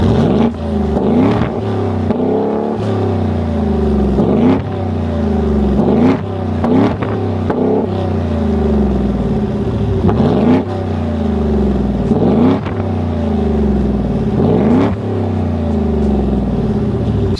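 Ford F-150 single cab truck with an aftermarket exhaust revving repeatedly, loud and close: a steady deep idle broken by a series of sharp throttle blips that rise and fall roughly every second or two, with no talking.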